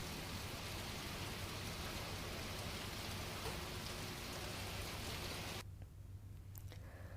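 Steady rain pours over the Amreli countryside in Gujarat during the monsoon, a dense even hiss that holds loud for several seconds, then drops abruptly to a quieter patter with scattered drops near the end.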